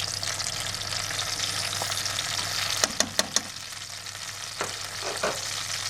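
Fried onions go into a pan of fried eggplant for kashk-e bademjoon and sizzle steadily in oil, with a few sharp clicks of stirring against the pan partway through.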